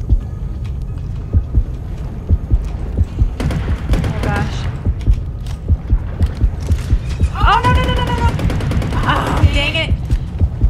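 Machine gun fire in the game Depth comes as scattered bursts of rapid shots mixed with underwater game sounds, while voices talk over the action.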